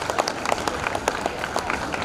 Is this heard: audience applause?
yes